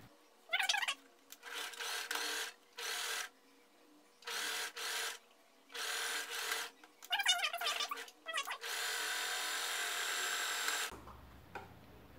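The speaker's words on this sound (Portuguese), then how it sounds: "eu vou passar uma costura aqui e uma aqui reta" A sewing machine stitches a straight seam on a small zippered toiletry bag, buzzing in short stop-start runs of about a second each, then one longer continuous run before it cuts off. It sounds close in a quiet room.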